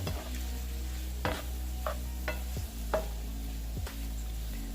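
Crawfish cooking in a pan over medium-low heat with parsley, a steady low sizzle beneath a few sharp scrapes and clinks of a utensil stirring against the pan.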